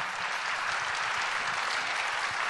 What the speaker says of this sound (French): qu'on remercie par une valse d'applaudissements